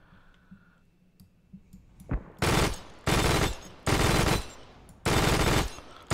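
Bursts of rapid automatic gunfire in ARMA 3 come as five loud, sustained volleys of about half a second each, separated by short gaps, after quiet clicking and handling sounds.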